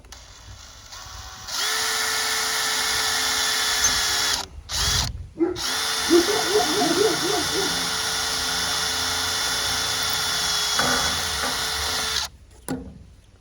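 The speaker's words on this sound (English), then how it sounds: "I'm just going to drill a hole here so I can get a cotter pin through it." A power drill whines steadily for several seconds, pausing briefly and bogging down as it bites into a metal pipe on a replica Model T truck, then running on before stopping.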